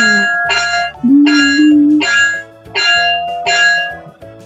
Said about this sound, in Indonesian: Selanjutnya ada bunyi bel.